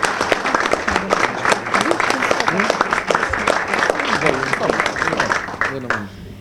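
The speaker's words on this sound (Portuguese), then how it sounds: "peço em sua memória uma grande salva de palmas" Applause at a local election campaign presentation in Tomar, Portugal, given in memory of someone: distinct individual claps merge into a dense, continuous round that fades near the end.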